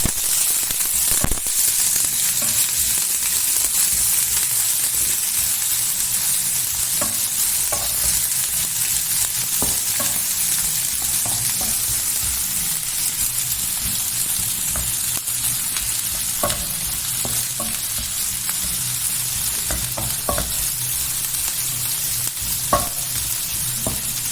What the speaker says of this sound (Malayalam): കുറച്ച് ഇഞ്ചി കഷ്ണം ഇതൊന്ന് ചെറുങ്ങനെ വാടക്കാം